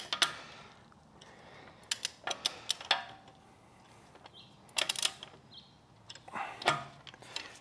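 Ratcheting torque wrench tightening a wheel on a 2024 Mini Cooper Clubman JCW, several short bursts of close, crisp mechanical clicks separated by pauses.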